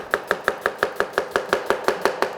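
A knife chopping vegetables on a board for gavar kololak meatballs, a fast even run of about fourteen crisp close chops with no talk.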